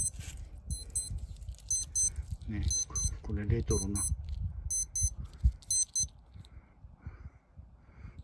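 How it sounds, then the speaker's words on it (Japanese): A retro Casio wristwatch alarm sounds in repeated bursts of bright, high electronic beeps in a steady rhythm, close by, while someone talks over it. "腕時計のアラームが鳴ってるけど、"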